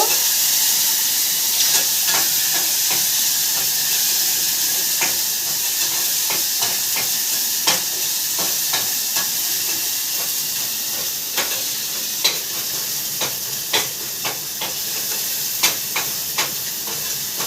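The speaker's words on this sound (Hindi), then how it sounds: "थोड़ा से मसाला फ्राई होने के बाद" Steady hissing sizzle of spice masala frying in a pan for biryani, with scattered sharp crackles and pops throughout, close and continuous.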